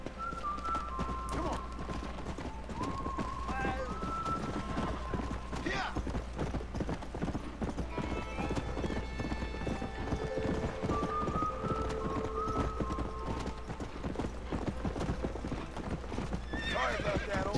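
Horse hooves clip-clop steadily through the whole stretch in a Red Dead Redemption game ride, with occasional whinnies, faint whistling and a constant low rumble, while a voice talks over it.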